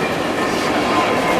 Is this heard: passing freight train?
yes